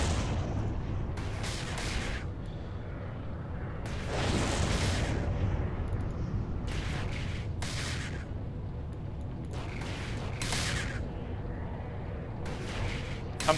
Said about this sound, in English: the missile launchers play an extra missile launch sound at the end of a cycle